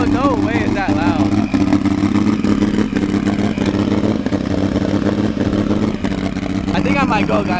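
A turbocharged BMW E46 M3 drift car runs loud in a quiet neighborhood, its engine droning and revving with a steady rumble and rising pitch sweeps, while voices talk over it.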